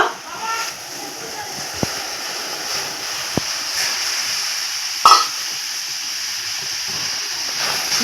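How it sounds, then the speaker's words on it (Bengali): Rice flour being stirred into well-boiled water in a pot to form pitha dough, heard as a soft continuous sloshing and scraping with a few sharp utensil taps against the pot, while a person speaks. "এখন আমি নাড়াচাড়া করে এই কাইটা বানিয়ে নেব"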